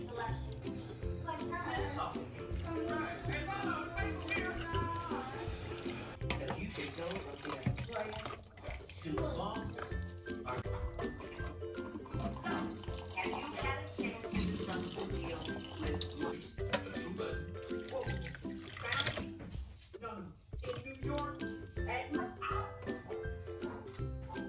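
Water running from a tap into a sink to boil-wash Rainbow High Series 5 fashion dolls: a steady close splashing stream under continuous talk, with a dog barking now and then.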